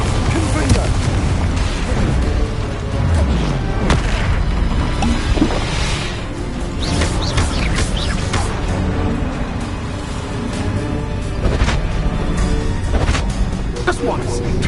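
Loud, dense barrage of booming spell explosions from Bombarda and Confringo in Hogwarts Legacy combat, continuous and busy throughout with layered bursts over game music and effects.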